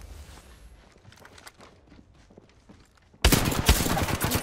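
Gunfire in the Apex Legends shooter game: quiet footsteps and soft clicks at first, then a sudden loud burst of rapid automatic shots that carries on to the end.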